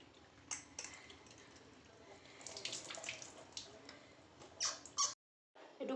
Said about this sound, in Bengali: এবার আমি ধুয়ে নেব একটু।